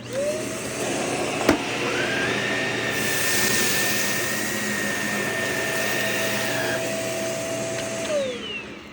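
A Shark vacuum cleaner running over carpet and sucking up cereal, a loud steady motor whine with a shifting pitch, a sharp tick near the start and a brief swell near the end, with no talking.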